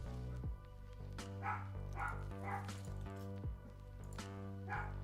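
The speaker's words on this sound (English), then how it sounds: "My dog's going off again." A pet dog barks repeatedly indoors, several short, slightly muffled woofs in an irregular rhythm, fairly faint and heard alone without speech.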